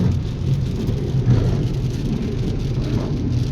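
Rain falls steadily on a car during a road journey in Thailand, a continuous, loud wash of drumming mixed with low engine and road rumble.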